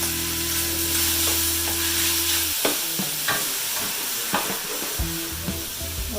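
Minced beef sizzles steadily in a pan, a hiss broken by scattered clicks and scrapes of stirring, while a low steady hum drops out partway through and comes back later.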